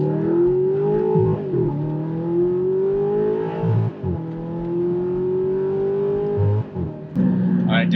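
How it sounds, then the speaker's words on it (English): An Audi R8 engine revs hard, climbing in pitch across several long pulls with brief dips between shifts, loud and close throughout. "I think we're gonna rev this one out a little bit"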